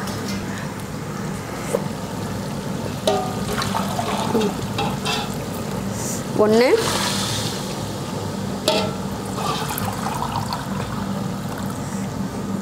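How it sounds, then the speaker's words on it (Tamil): Water pours steadily into a pot of rice, with a continuous splashing gurgle while a voice counts now and then. "இப்போ மட்டன் வேக வச்ச தண்ணி இருக்குது, அதை ஊற்றிட்டு அடுத்து வேறு தண்ணி ஊற்றிக்கலாம்"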